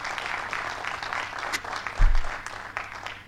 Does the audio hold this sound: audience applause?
yes